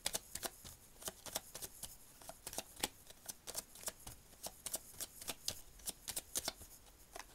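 Tarot cards being shuffled by hand, a dense run of crisp riffling clicks and flutters in quick irregular bursts, close and fairly quiet, with no talking over them.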